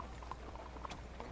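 Faint, quick clip-clop of horse hooves in the video game Red Dead Redemption 2, with a few light, evenly spaced steps over a low background.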